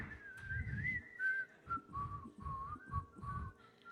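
A person whistles a wandering melody in a live performance. The clear, steady tone runs over low, rhythmic accompaniment.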